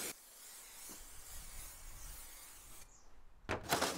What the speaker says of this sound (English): I've got some spray adhesive that I'm going to put on the back of these panels